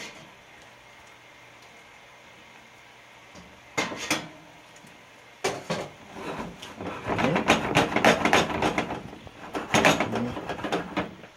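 Clattering metal pans and wet, slapping fettuccine noodles shifted from one pan to another, starting with a quiet stretch, then sharp knocks and a busy sizzling scrape that grows louder toward the end.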